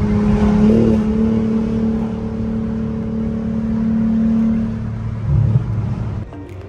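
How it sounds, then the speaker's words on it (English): Busy road traffic creates a steady, close engine drone with a low humming tone and swells as vehicles move, continuous for several seconds with no talking. "Traffic is packed as hell over here too"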